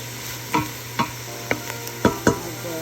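Pink cabbage and onion are stir-fried in a hot pan, a soft steady sizzle broken by about six distinct scrapes and knocks of a utensil, spaced roughly half a second apart.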